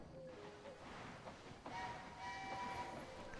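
A train runs in the Locomoto railway video game, a continuous mechanical rolling rumble that swells partway through, with faint whistle-like tones drifting above it and no voices.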